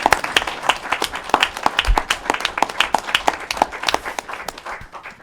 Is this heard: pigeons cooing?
no